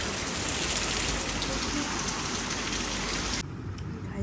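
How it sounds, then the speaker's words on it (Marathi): Steady rain falling outside in Goa, a dense continuous hiss of drops on surfaces that carries on without pause. "गाईस पाऊस पडतोय बाहेर"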